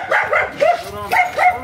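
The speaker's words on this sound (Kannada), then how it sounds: "ಭಾರಿ ಕೊರೆ ತಂದುಂಡು ನಾಯಿ" A dog barks close by in several short, sharp bursts, with two quick barks, a pause, then two or three more, and nothing else around them.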